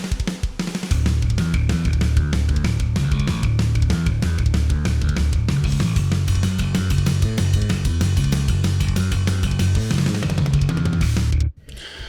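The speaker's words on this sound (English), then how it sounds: "With bass, this is Omni Bass from Submission Audio" Programmed metal drums with a virtual bass play loud and dense, with fast kick patterns and cymbals over a driving low line, then cut off abruptly near the end.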